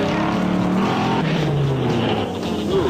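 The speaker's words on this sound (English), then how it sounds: "they're still trying to pull that truck out of the muck" A truck engine revs hard while the vehicle sits stuck in deep mud at an off-road mud run event, a steady loud drone with rising and falling pitch and no talk.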